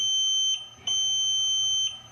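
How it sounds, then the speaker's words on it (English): Two long, high electronic beeps from a Sargent & Greenleaf 2740 safe lock as the dial begins turning, each steady and piercing, with a brief gap between them and quiet background hum underneath. "you might hear a double long beep when you begin turning the dial"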